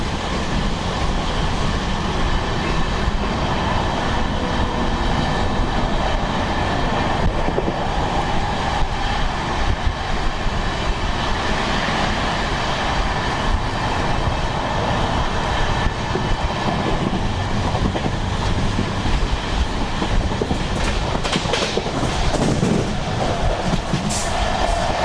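An Indian passenger express train runs on the line between Chirala and Tenali Junction, with a steady loud rumble and clatter of wheels on rails that continues throughout, close and without voices.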